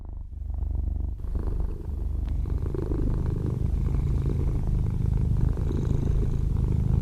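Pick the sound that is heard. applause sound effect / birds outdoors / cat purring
cat purring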